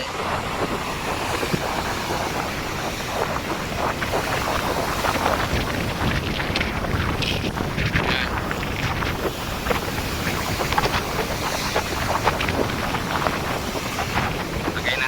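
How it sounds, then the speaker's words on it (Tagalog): Strong super typhoon wind roars continuously across the coast at Calayo, Nasugbu, Batangas, buffeting the microphone with a dense, steady rush and gusting noise, with surf from the sea mixed underneath and no rain. "Wala na ulan pero malakas pa yung hangin."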